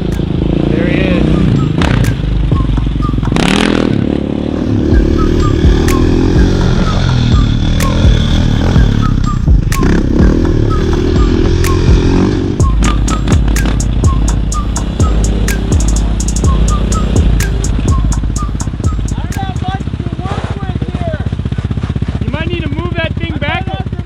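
A dirt bike engine revs hard and wavers through a long wheelie, loud and close, with rattling clatter and sharp bursts of throttle toward the end.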